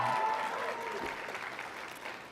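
Graduation audience at a 2022 Mission College commencement clapping in a large hall, a steady wash of applause that slowly fades, with a faint voice over it near the start.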